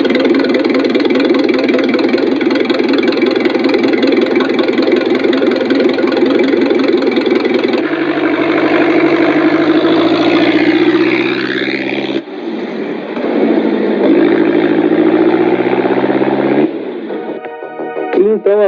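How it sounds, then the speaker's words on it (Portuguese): A four-cylinder inline motorcycle engine runs at low revs, a steady buzzing drone with slight rev changes, loud and continuous throughout with no talk. "Uma moto de 4 cilindros que não gira muito."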